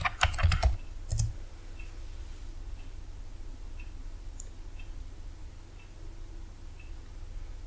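Fingers strike a computer keyboard while entering a password, with a few sharp clicks early on and then sparse, faint ticks over a steady background hum.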